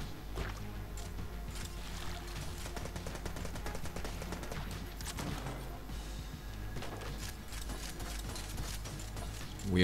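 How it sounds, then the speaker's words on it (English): Rapid gunfire from a machine gun in the dungeon-crawler shooter game Enter the Gungeon, dense and continuous against a busy game soundtrack for the full stretch. "I'm just gonna use this machine gun, like it's machine pistol"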